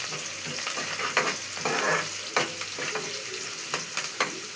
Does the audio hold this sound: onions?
yes